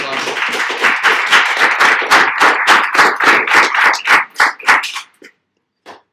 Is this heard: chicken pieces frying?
no